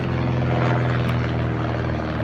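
A low-flying airplane passes overhead on Anna Maria Island, Florida, its engine a loud, steady droning roar that fills the whole short stretch without a break.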